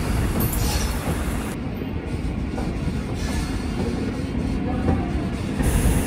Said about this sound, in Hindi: MEMU express arriving on Saharanpur junction railway station के 6 नंबर प्लेटफॉर्म पे।